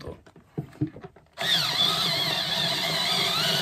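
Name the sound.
wood drill boring into bamboo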